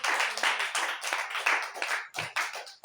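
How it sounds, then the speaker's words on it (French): Church audience clapping for a grandmother, a close, loud burst of irregular hand claps from a group that pulses and briefly dips near the end. "Applaudissez pour ma grand-mère."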